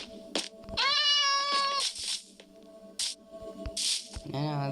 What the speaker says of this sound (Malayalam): ഞാൻ ആദ്യമായിട്ട് പൂച്ചിൻ്റെ സൗണ്ട് മുമ്പേ കേൾക്കുന്നു.